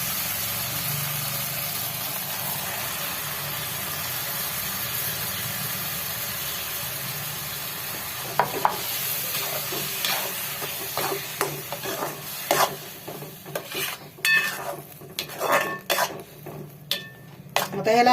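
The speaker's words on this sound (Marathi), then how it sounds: "आता याला आपण चांगलं तेल सुटेपर्यंत आपण याला टॅमॅटोच्या पिवडीला आपण याला भाजायचं आहे चांगलं" Tomato puree roasting in oil for chicken dum biryani, with a steady cooking hiss and burner hum at first, then a spoon scraping and clattering against the pot in irregular strokes close up.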